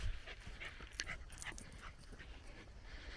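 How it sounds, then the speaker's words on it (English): A dog on an outdoor hiking trail in a national park pants steadily and lets out a few short high whimpers, fairly faint and close amid light outdoor background noise. "Happy doggy."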